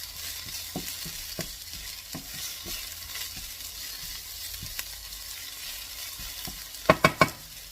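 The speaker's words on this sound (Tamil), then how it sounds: "மஞ்சள் தூள் கொஞ்சம் போட்டுட்டு அப்படியே மிக்ஸ் பண்ணி விடணும்" Drumstick leaves frying with turmeric powder are stirred in a pan, a steady sizzle under repeated scraping clicks of the spoon, ending in a quick burst of sharper utensil knocks.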